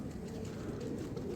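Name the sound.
pigeon cooing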